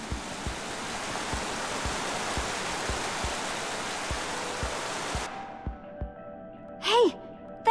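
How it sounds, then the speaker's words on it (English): Steady broadband rushing of a waterfall in the Minecraft Story Mode video game, continuous for about five seconds before cutting off, followed by faint music tones and brief sounds. "first met Reuben near a waterfall like this."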